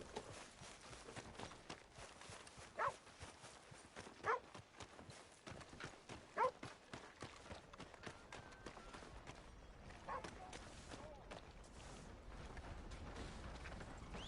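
Horse hooves clip-clop in the video game Red Dead Redemption 2, an even series of quiet, close hoofbeats at a brisk pace, with a few louder accents and occasional distant sounds.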